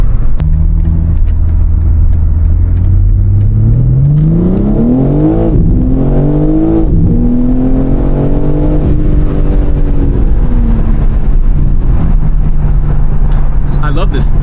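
A BMW M3 Competition engine driven on the street, revving loudly with rising pitch sweeps broken by quick gear shifts, then settling into a steady drone, heard from inside the car with talk over it.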